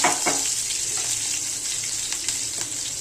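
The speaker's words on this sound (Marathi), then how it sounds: "आणि आता ह्या मिरच्या ना चांगल्या भाजून द्यायच्या थोड्या." Green chilies roast in a hot pan, giving a steady sizzle and crackle with a few sharper pops and stirring scrapes, close and continuous.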